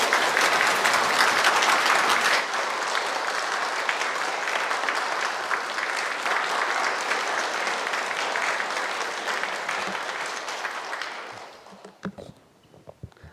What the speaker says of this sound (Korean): 박수 많이 주십시오.